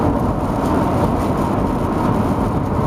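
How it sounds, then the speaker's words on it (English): Steady heavy rain pouring down, a dense continuous roar with no pauses and no voices. "Oh, it's raining."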